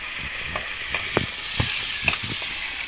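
Unripe, greenish home-grown tomato pieces hitting hot oil in a pan of fish curry, a steady sizzle with scattered soft pops and stirring knocks, close and alone.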